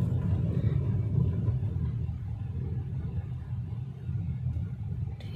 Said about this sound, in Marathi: हा बघ हा गाडी बघ कसं चालवतोय